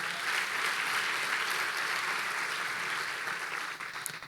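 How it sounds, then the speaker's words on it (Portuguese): A church congregation applauds after a sermon passage, steady dense clapping from many hands throughout, fading slightly at the end. "Você pode aplaudir a palavra de Deus."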